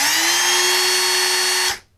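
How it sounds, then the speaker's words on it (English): A handheld electric drill powered from a small 3S 18650 battery pack with a BMS module whines at a steady high speed for under two seconds, then spins down to a stop. "here I have another drill. Let's try that."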